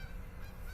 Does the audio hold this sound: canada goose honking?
yes